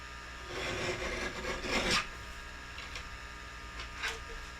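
Material is cut to size for oblong oval window dies, with a close, scraping rasp that swells to a sharp stroke, then a softer second pass.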